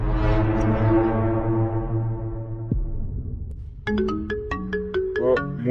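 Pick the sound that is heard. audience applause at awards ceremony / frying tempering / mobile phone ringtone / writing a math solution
mobile phone ringtone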